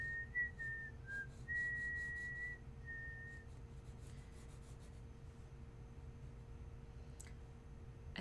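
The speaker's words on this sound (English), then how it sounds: "I didn't say I wasn't going to whistle." During a drawing lesson of a gerbera daisy, a person whistles a soft, wavering tune for a few seconds. Quiet pencil rubbing and faint scratching on paper follow over a low room hum.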